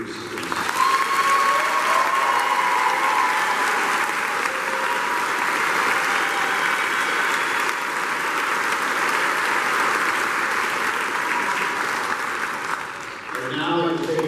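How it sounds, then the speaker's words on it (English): Sustained applause from a large crowd at a high school graduation ceremony, steady and dense for the whole stretch, fading slightly near the end. "join me in a round of applause as we show gratitude to this incredible group of students."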